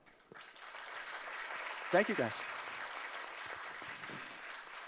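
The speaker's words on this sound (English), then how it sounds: "Big round of applause." An audience applauds after a conference talk, a moderate steady patter of clapping from a room full of people. Someone speaks briefly over it.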